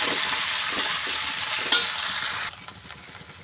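Grated raw mango stirred in a hot frying pan for mango pulihora, giving a steady close sizzle with scraping stirs, then the frying noise drops abruptly to a quieter simmer with a couple of light clinks.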